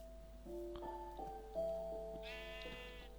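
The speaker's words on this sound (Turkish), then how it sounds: "Lan kuzu ne işin var orada?" Lambs bleat in the Minecraft video game, several short wavering calls overlapping across the clip at moderate loudness, with a game hum underneath and no talking.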